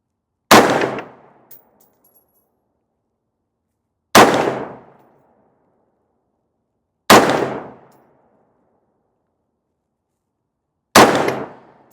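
Sig Sauer Spear LT 5.56 rifle fired outdoors, four loud single shots spaced several seconds apart, each a sharp crack with a short ringing decay into silence.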